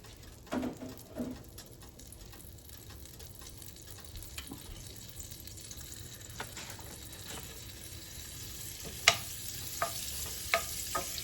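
Olive oil and butter fry in a pan for pork chops with a quiet, continuous sizzle that grows slightly, marked by a few scrapes early on and sharper crackles and pops near the end.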